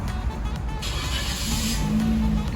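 A Toyota Yaris engine, started by remote, runs with a steady low hum under a broad hiss, and a faint tonal drone rises near the end.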